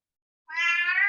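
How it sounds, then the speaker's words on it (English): A cat meowing once, a single clear drawn-out meow that begins after a brief silence and carries on to the end. "Oh, what's that? Somebody got a cat there."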